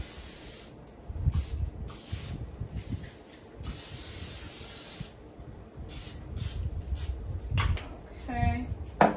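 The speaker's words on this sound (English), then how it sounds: "I'm going to take some of my non-stick spray and I'm going to spray it in each of these" Non-stick cooking spray misted into a muffin tin for corn muffins, several short hissing bursts separated by pauses, with a faint clink of the tin near the end.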